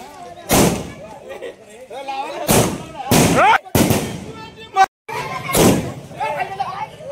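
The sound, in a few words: fireworks being set off in village celebration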